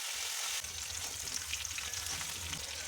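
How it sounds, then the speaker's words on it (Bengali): Eggplant pieces frying in oil over a high flame for a rohu fish curry, a brief, dense, close crackling sizzle with a slight bubbling undertone, steady throughout and free of talk. "বেগুনগুলোকে আমি হাই ফ্লেমে ভাজবো, যাতে খুব বেশি নরম না হয়ে যায়"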